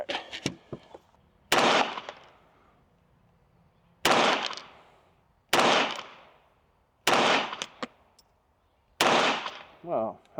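A Springfield Armory Kuna 9mm PDW fires hand-loaded rounds in six sharp, loud single shots spaced a second or two apart, each with a short decaying echo outdoors, and brief talk appears between them.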